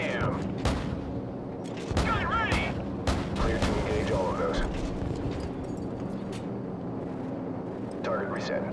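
Gunfire and explosions from the Call of Duty 4: Modern Warfare campaign, with repeated sharp shots and booms spread across the clip, mixed under radio-style game dialogue and voices.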